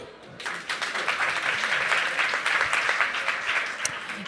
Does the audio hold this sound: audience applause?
yes